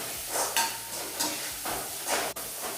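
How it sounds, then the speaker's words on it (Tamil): Onions fry in a pan while a spoon stirs them in regular scraping strokes over a soft, continuous sizzle. "வேகிற வரைக்கும் நல்லா கிண்டிக்கலாம்."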